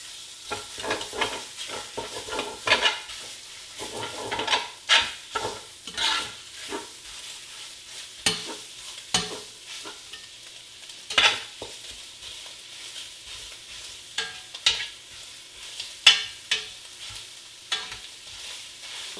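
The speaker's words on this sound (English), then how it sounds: "Once you add the Italian sausage, go ahead and you can scrape bottom." Italian sausage fries in a pot for Cajun shrimp and sausage jambalaya, with a steady sizzle and repeated scraping and stirring strokes across the bottom, close and fairly loud with no talking.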